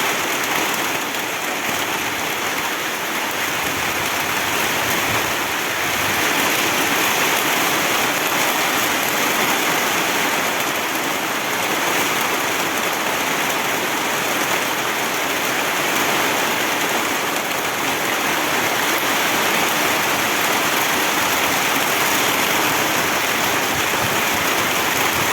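Heavy rain pours down steadily in a dense, continuous hiss that stays loud and unbroken throughout, with no voices.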